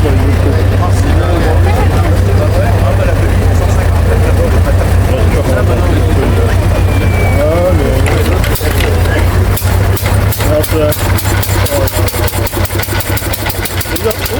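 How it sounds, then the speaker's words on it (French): An old Bernard stationary engine runs at a farm gathering. It gives a loud, steady low thumping idle close by, while voices talk over it. "Alors là, on est sur un moteur fixe, un moteur Bernard. Il va nous le mettre en route, vous allez voir."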